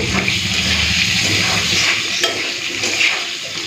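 Potatoes frying in hot oil with whole cumin seeds, a bright continuous sizzle and crackle with faint stirring scrapes, close and steady throughout.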